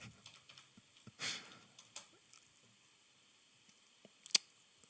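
Computer keyboard typing, soft scattered keystrokes with short pauses and a small flurry, plus one sharper click near the end; quiet, close and without speech.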